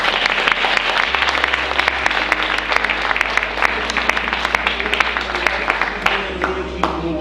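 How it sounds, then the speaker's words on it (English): An audience at a mentalist's stage show applauds three volunteers, with loud, dense, sustained clapping over a low steady hum or music bed that shifts in pitch a few times. "give them a nice round of applause"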